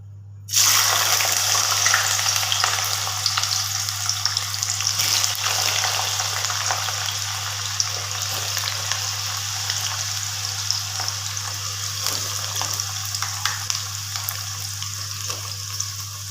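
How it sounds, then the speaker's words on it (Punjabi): Onions dropped into well-heated oil for an okra curry fry with a steady, loud sizzle that starts abruptly and hisses on alone, with no talk. "ਤੇਲ ਆਪਣਾ ਚੰਗੀ ਤਰ੍ਹਾਂ ਗਰਮ ਹੋ ਚੁੱਕਿਆ ਜੀ ਹੁਣ ਆਪਾਂ ਇਹਦੇ ਵਿੱਚ ਪਾਵਾਂਗੇ ਪਿਆਜ਼"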